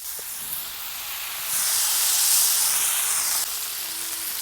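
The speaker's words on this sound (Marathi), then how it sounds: "याच्यावर आपल्याला पाच मिनटं झाकण ठेवून घ्यायचं आहे मस्त वांगे वाफळतील आपले" Brinjals steam in a covered pan, giving a close, steady hiss that swells louder for a couple of seconds before easing back, with no talking.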